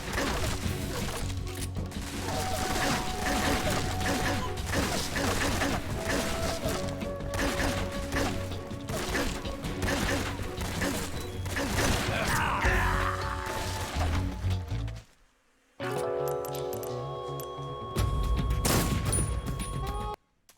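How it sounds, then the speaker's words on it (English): Dense, continuous gunfire and crashing impacts from Metal Gear Solid 3, loud and chaotic with mechanical clatter, cutting out briefly to near silence before the barrage resumes. "I'm just gonna shoot that guy"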